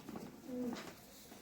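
Sialkoti and Kasuri pigeons give a single soft, low coo, faint and brief against a quiet background.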